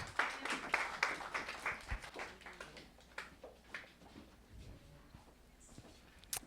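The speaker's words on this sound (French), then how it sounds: "On peut les applaudir." A church congregation applauds during a French-language service, scattered clapping from many hands that is loud at first and then thins out into quieter, uneven claps.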